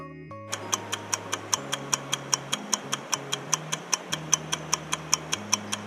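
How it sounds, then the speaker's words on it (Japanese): Wall clock ticking in a quiet room, a crisp, steady tick-tock at about four beats per second, close and distinct over a soft background hum. "壁にかかった時計の針が刻むカチカチという音だけが、不気味なほど大きく響いてくるのです。"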